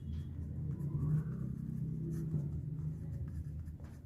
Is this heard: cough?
no